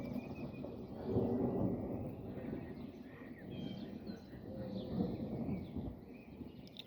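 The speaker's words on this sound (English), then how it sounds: "The last thing I would have wanted to be walking home in a thunderstorm." Thunder during a thunderstorm, heard as a low continuous rumble that swells and fades over several seconds, with faint bird chirps scattered above it and no voices.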